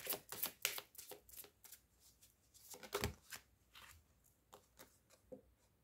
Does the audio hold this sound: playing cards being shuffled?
yes